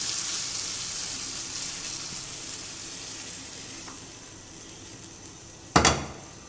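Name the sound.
chicken frying in a pan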